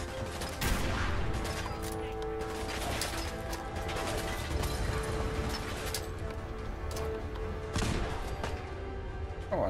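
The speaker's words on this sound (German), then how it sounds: "das hat noch eine Bombe ausgelöst" A bomb set off in Fallout 4 brings dense, continuous crackling and clattering bursts, loud and sustained like rapid gunfire and mechanical rattling throughout.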